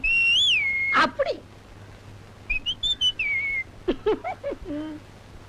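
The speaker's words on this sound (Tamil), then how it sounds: "நீங்க விசில் அடிக்கலாம்." A person whistles in a Tamil comedy film scene: a rising, warbling tone at the start, then a short run of bright whistled notes, with brief bursts of voice between them.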